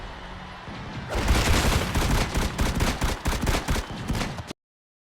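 Character in the video game Frag firing a gun, a rapid, dense burst of shots lasting about three seconds that cuts off abruptly into silence.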